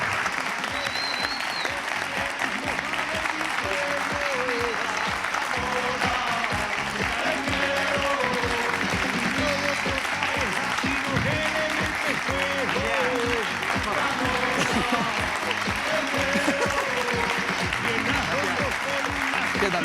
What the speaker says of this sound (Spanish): pido, por favor, un fortísimo aplauso para Fernando Esteso